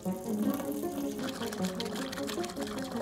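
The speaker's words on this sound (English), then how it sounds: "So now we just have to pour all the vinegar in here." Vinegar poured into a LEGO volcano, a continuous close liquid gush and splash lasting a few seconds with a faint voice underneath.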